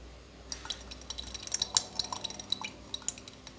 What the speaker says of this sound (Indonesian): Sama kita tuang sambil kita aduk pelan.